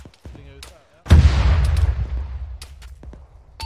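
A loud gunshot blast in the military video game Arma 3 cracks out and rolls away in a decaying echo, with sharper, fainter shots and voices around it.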